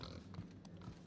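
Bubbles, a bloated pig creature in The Outer Worlds, gives faint low grunts and snorts in short bursts over a quiet background.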